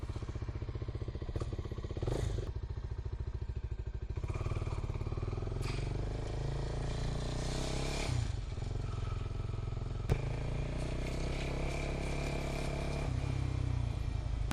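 Motorcycle being ridden, a steady low engine hum with wind buffeting and occasional clattering bumps, continuous and fairly close throughout the ride.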